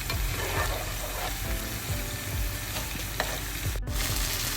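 Eggplant and green mango pieces frying in oil for a spicy anchovy theeyal, a steady close sizzle with occasional spatula turning sounds in the pan.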